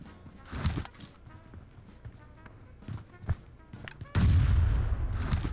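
Gunfire in the mobile battle-royale game PUBG Mobile: a string of sharp shots spaced through the moment, then a louder, sustained burst of firing near the end.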